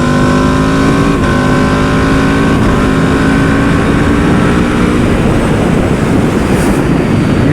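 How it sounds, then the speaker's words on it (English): An Aprilia RSV4 Factory motorcycle accelerates hard under rider, its engine note climbing through quick-shifter upshifts with brief clean breaks in the loud continuous roar, heavy wind rush throughout and no talk. "See, that quick shifter is so smooth."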